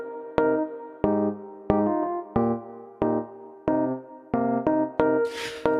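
Synth chords repeat in a steady rhythmic pattern, about ten struck chords with decaying tails and light reverb, clean with distortion and other effects bypassed, ending with a brief noisy swell; no voices.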